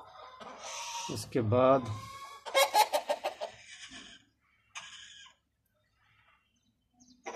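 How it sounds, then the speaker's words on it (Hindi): Free-roaming hens under a bamboo-roofed shed cluck in short loud bursts close by, with people talking in between and quiet gaps near the end. "ये सारी मुर्गियाँ फिर रही हैं"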